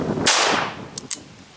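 A Cimarron Lightning .38 Special revolver with a 3.5-inch barrel fires one loud, sharp shot that rings out and fades, followed by two brief metallic clicks.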